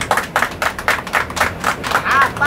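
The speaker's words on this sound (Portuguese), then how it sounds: "Vou pedir que na humildade a galera bata uma salva de palmas" Bus passengers clap for a clown in Paraí, a steady run of rhythmic, close, sharp claps that carries on alone, without talk.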